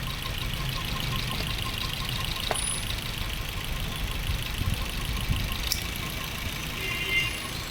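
A Maruti Swift BS6 engine idles with a misfire during ignition coil work, a steady close mechanical drone with uneven knocking pulses and faint clicks throughout.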